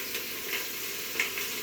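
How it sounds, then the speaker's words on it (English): Soft, steady sizzling of carrots frying in a hot Instant Pot, with a few brief sharper crackles. "the carrots have a little water, so it's sizzling"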